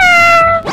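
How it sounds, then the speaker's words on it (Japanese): A single clear cat meow from the Minecraft video game, a short sustained tonal call that fades at the end, loud and alone. "作ったばっかりの交易船に猫が。"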